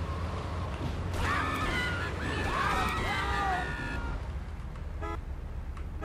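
A car horn in GTA 3 honks in a few short bursts over loud engine and traffic noise, with a faint crowd or scream somewhere in the background.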